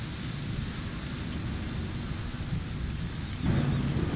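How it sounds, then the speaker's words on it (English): Loud, steady rain in a video game, a dense continuous hiss with a slight surge in intensity near the end and no talking. "This rain is very loud."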